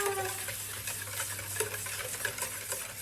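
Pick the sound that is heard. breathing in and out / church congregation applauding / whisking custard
whisking custard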